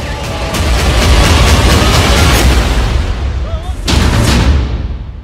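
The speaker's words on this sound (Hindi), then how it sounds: "डबल धमाका, डबल हमला" Two loud, roaring blasts follow one another, the first long and rumbling, then a brief dip before the second booms in, heavy and close.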